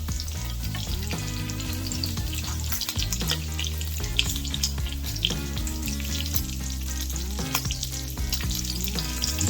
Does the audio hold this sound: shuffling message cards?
no